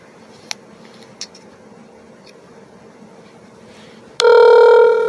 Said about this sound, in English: I'm going to try again to see if I can get sex trafficking Stuart Zukrow on the phone.